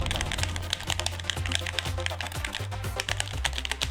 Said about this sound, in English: I'm trying to figure out what game I have ever played required this much button clacking.